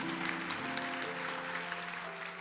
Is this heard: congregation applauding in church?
yes